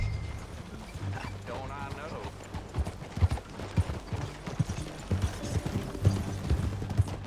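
Horse hooves clip-clopping in Red Dead Redemption II as riders set off together, an irregular thudding gait near and moderately loud, with game characters talking over it.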